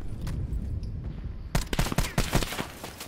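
Rapid bursts of AK assault rifle fire in the shooter game Call of Duty Black Ops 4 crack out after a quieter lead-in, sharp repeated shots landing loud and close over a low background rumble.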